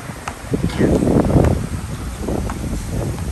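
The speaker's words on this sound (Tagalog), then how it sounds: "sobrang lakas ng hangin, tapos malamig" Strong, cold gusty wind buffets the microphone outdoors with a loud rumbling roar that swells through the middle and eases off, no voices.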